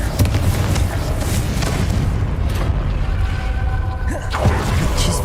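Explosive spell blasts from Hogwarts Legacy, a Depulsor followed by a Confringo, rumble with heavy booms and whooshing bursts over a continuous loud din, with one sharper blast near the end.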